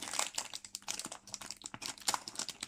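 Plastic foil wrapper of a Pokémon trading card pack being torn open and crumpled close by, a dense run of sharp crinkles and crackles lasting the whole stretch with no talking.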